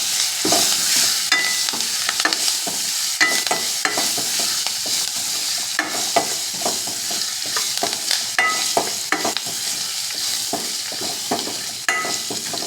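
Green chillies, curry leaves and garlic fry in hot oil with a steady, bright sizzle and crackle, broken by frequent stirring scrapes of a spoon in the pan.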